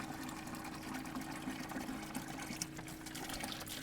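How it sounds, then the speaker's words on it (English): A small 12 volt water pump pushes water through a garden hose for off-grid watering, a steady low motor hum under a continuous rushing splash of flowing water. "that's a good flow rate for a little 12 volt pump"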